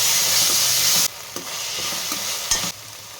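Tomatoes, coriander and ginger garlic paste being stirred in a pan for pav bhaji: a loud hiss at first drops quieter, then a spoon scrapes and clacks against the pan in a few separate strokes.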